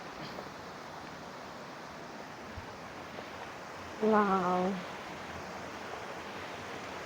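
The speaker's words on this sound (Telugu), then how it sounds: "నేచర్ చేస్తున్న వాటర్ సౌండ్" Dudhsagar waterfall in Goa pours in a steady, broad wash of flowing water that runs through the whole clip, with a brief exclaiming voice cutting in over it partway through.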